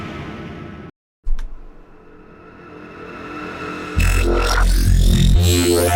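A reversed neuro bass sound built in Serum swells up with a volume fade after a brief dropout, then a loud, gritty, throbbing bass surges in and holds to the end.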